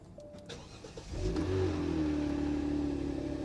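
A 2021 Range Rover cranks briefly and catches, then settles into a loud, steady idle up close, its engine note holding evenly after the start.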